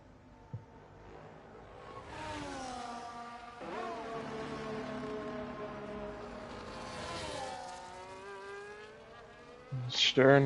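A simulated race car in a sim-racing league qualifying lap at Austria flies past with engine notes rising and falling through gear changes, a loud whine building toward a sharp burst at the end.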